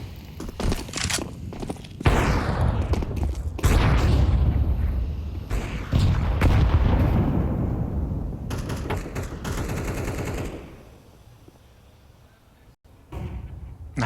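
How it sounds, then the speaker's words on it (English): Grenades burst in a Counter-Strike match, with booming blasts and bursts of gunfire and scattered footsteps, ending with a brief lull before another loud hit. "Double nades down mid do damage to Flames"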